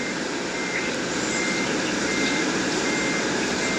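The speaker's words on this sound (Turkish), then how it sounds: "otobüs geri geri yokuş çıkıyor" An IETT city bus in a video game backs up a hill, its reversing alarm beeping steadily over a loud, constant engine drone with no pauses.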